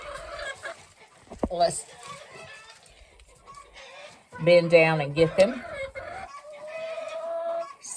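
Brabanter hens, a crested breed, cluck and chatter softly nearby in short bursts, with a louder cluster of calls midway, while a person talks over them.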